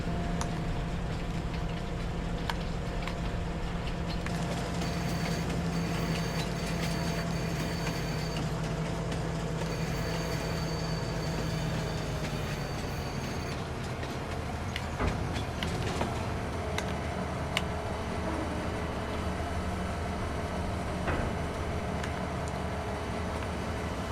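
A Farming Simulator 25 train rumbles along steadily, a continuous low rolling drone with faint metallic squeals and clanks, moderately loud throughout.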